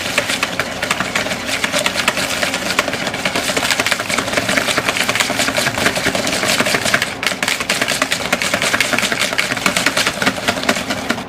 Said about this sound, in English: I'm going to use it with a wide whisk.